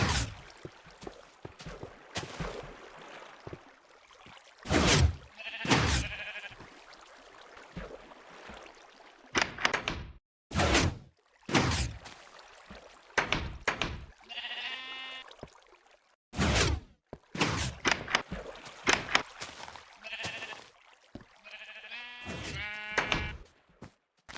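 Sheep bleat in the video game Minecraft, a series of separate bleats from several animals with quiet gaps between them and no talking.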